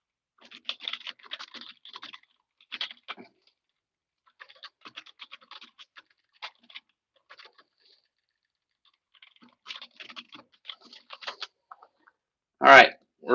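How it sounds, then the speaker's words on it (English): Computer keyboard typing during an art drop livestream, heard as scattered sparse clusters of light key taps separated by silences, close but soft, ending with a couple of louder handling thumps. "I'll type to you because you can't hear me."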